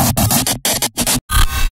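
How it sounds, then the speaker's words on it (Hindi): Digital glitch sound effect for video editing, a harsh burst of static chopped into four or five stuttering noisy bursts with abrupt gaps, loud and heard alone. "ग्लिच,"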